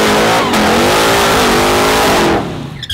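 A Hellcat-swapped 1969 Dodge Dart convertible with an 8-speed automatic revs hard and loud, its engine note climbing and holding for about two seconds before easing off, close by with no talking.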